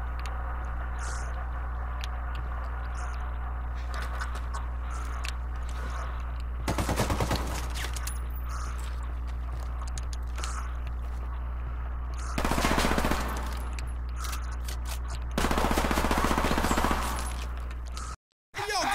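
Light machine guns fire in Ghost Recon, with three loud bursts of rapid gunfire standing out over a steady droning game background; a brief pause cuts in near the end.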